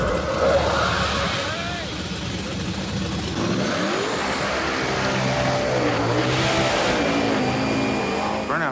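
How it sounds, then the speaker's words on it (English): A street race car does a burnout with its engine revving hard, a loud continuous roar with rising and falling pitch sweeps and tire squeal, while voices talk over it. "Burnouts are loud as hell"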